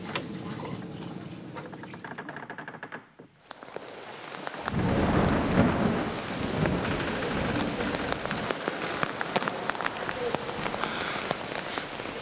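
Tropical thunderstorm over a lake on Sulawesi: steady heavy rain hissing on the surface, a brief lull, then a deep rolling thunderclap that swells and rumbles under the continuing downpour.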